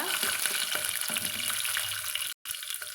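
Whole small onions fry in hot oil with a dense, steady crackling hiss, close up, breaking off briefly near the end. No one speaks.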